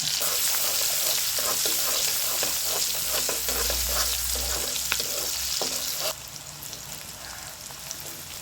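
Onions sizzle and fry steadily in hot oil for a pumpkin-leaf and shrimp curry, with scattered stirring clicks over a continuous hiss that drops slightly near the end.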